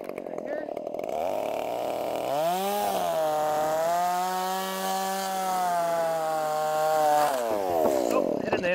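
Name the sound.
saw cutting a log cabin roof rafter joint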